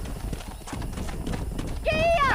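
Horse hooves clip-clop steadily across ground in Red Dead Redemption while cattle are driven down a road, followed by a loud horse whinny near the end, with a background of game ambience and muffled voices.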